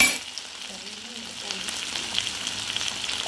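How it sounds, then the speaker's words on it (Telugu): Onions and potatoes fry lightly together in oil, making a continuous soft crackling sizzle that is fairly quiet and even over a few seconds, with no voices. "పొటాటో ఫ్రై అయినాక ఆనియన్స్ మరీ ఫ్రై అవ్వాలి లైట్గా"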